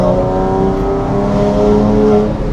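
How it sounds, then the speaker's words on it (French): Porsche Boxster S with a 280-horsepower flat-six engine revving, a loud close harmonic growl that climbs and holds steadily for a few seconds before easing off, with no speech. "Là, je suis perturbé par le son du flat 6."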